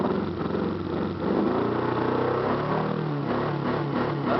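A Nissan Pulsar engine, just after a cold start, revs up from idle, a close, loud engine drone whose pitch climbs and holds, with no voices.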